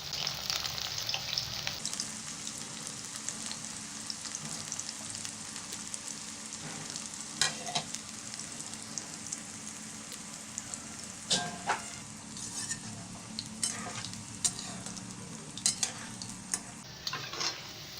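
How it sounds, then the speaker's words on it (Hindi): Vegetable Manchurian balls deep-frying in oil on a low flame, a continuous soft bubbling sizzle with occasional sharp clicks of a utensil against the pan. "अब हम इसे फ्राई कर लेंगे। हमें इसे लो फ्लेम पर ही फ्राई करना है।"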